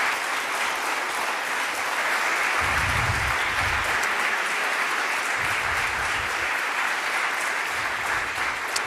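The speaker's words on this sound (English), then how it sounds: "please make an applaud for these Ukrainian students who are here" An audience at a university welcome week event applauds visiting Ukrainian students, a steady, even wash of clapping from a large crowd throughout, with some low rumbling thumps underneath.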